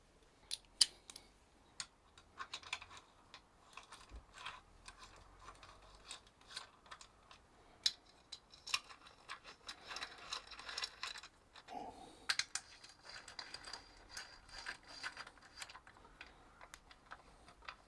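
Ratchet work on an original Kawasaki Z1A 900 motorcycle engine during a rebuild, with quiet scattered clicks and ticking of a bolt being tightened, near and fairly faint, no talking.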